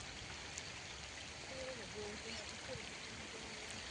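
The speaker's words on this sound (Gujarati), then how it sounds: "ગાઈસ તો વરસાદ પડે છે" Steady rain falls outdoors over a paddy field during rice seedling transplanting, a continuous soft hiss of drops that stays even throughout.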